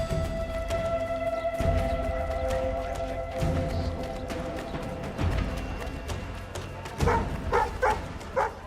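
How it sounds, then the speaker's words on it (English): Dog barking amid horse hooves clip-clopping in Assassin's Creed III, a few sharp barks standing out near the end over a busy, continuous game soundscape. "Bog off, dog."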